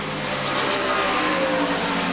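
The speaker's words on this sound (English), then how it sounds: "the V6 engine Nissan of Geoff Brabham 83, the 99 Toyota" Race cars roar past at a 1991 IMSA race at Lime Rock, a V6 Nissan and a four-cylinder turbo Toyota, their engines droning loud and steady throughout with a dense, continuous whine.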